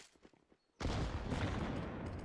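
Grenades going off in a CS:GO match on the Inferno map: after quiet background noise, a loud burst of overlapping blasts hits and sustains as a dense rumbling roar for over a second.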